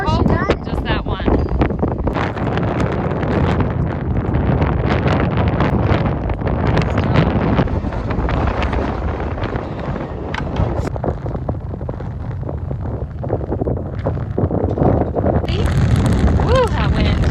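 Strong wind gusting outdoors, a loud continuous buffeting roar across the microphone that hardly lets up.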